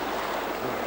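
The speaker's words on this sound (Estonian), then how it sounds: "See on see meri" Steady broadband wash of sea waves on an Estonian shore, a continuous close rushing surf with wind and no distinct breaks.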